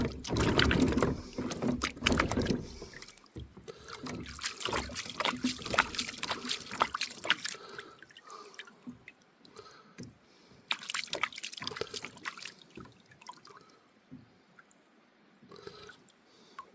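Water sloshes and trickles in bursts in a gold pan at a stream, swirling and splashing close by, with quieter dripping gaps between the rounds of movement.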